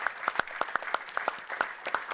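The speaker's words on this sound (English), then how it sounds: "So if I can have a round of applause" A seminar audience applauds with steady, distinct hand claps that are fairly sparse, like a modest room of people, heard quietly and without talk.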